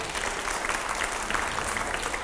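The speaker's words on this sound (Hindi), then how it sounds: "जोरदार तालियां हो।" A studio audience at a televised interview event claps loudly and continuously, a dense wash of applause throughout.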